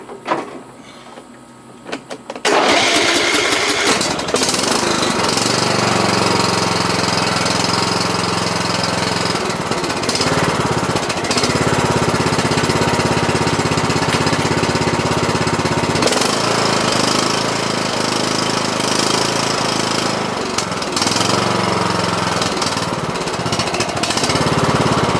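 A Cub Cadet XT1 lawn tractor engine, just fitted with a brand-new carburetor, starts after a brief quiet moment and then runs loud and steady at close range, with a rough, knocking chug and no talk over it.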